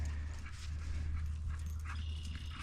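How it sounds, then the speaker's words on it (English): A neighbor's loose puppy and another dog play together outdoors on a farm during corn planting, with faint whimpers and yips over a steady low engine rumble of farm machinery. "Neighbor's puppy got loose"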